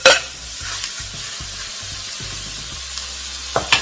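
Onions and celery are stirred in a Saladmaster pan, giving a soft, steady sizzle with repeated scraping strokes and a couple of sharper clinks at the start and end.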